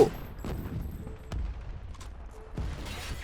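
Several sharp, punchy explosion blasts from combat in Call of Duty: Ghosts, spaced irregularly over a low background rumble, fairly close and loud.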